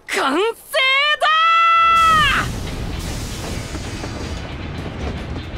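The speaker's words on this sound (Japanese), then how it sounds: "こいつが最強の爆弾列車、その名もドーンブレイザー号だ！" The Dawnblazer bomb train in Final Fantasy XIV sounds several loud, rising whistle blasts, then settles into a steady rolling rumble of the running train.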